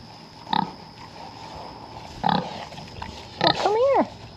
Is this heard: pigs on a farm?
yes